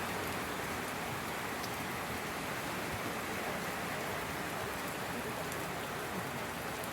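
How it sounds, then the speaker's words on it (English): Steady rain pours onto a roof built to collect water for a tank at a village compound, a dense, even hiss of drops that stays constant and fairly soft throughout, with no thunder or voices. "So now here is the rain we were waiting for."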